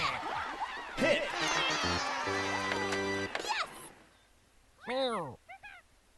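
Synthesized cat meows from a toy baseball video game, two short rising-falling cries near the end, following a stretch of game music and crowd-like electronic tones.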